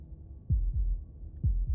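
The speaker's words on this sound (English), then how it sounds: "That was the sound of a heartbeat, followed by another," Slow, deep heartbeat thuds from the video game Slay the Princess, two paired lub-dub beats, muffled and close against near silence.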